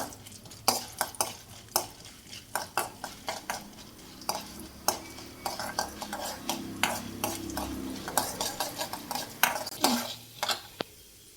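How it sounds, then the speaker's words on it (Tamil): Mustard seeds, split chickpea lentils and urad dal crackle and fry in hot oil while a spoon scrapes and stirs the pan, giving quick sharp pops and clinks in an irregular rhythm over a low sizzle, close and fairly loud. "இப்போ கடுகு, கடலப்பருப்பு உளுந்தம்பருப்பு, கடுகு பொரிட்டு"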